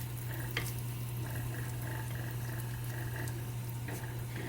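Shallots with a pinch of salt being stirred in a pot as they sweat for asparagus risotto, a soft steady sizzle with faint scraping stir strokes over a constant low hum.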